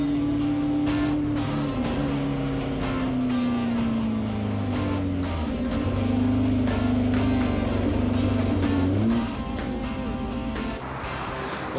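A car from Paul Newman's collection is being driven fast, and its engine revs loudly and continuously with rising and falling pitch, then drops off near the end.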